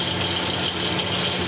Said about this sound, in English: you turn the taps to hot and start drawing the water through until it stops spluttering